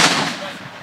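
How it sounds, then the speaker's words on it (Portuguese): Gunfire during a shootout between police and three suspects in a residential area: one loud, close blast that fades over less than a second. "muito tiro, muitos disparos de arma de fogo"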